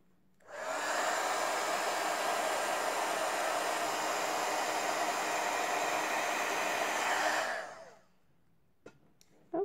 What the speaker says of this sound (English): And now we will emboss.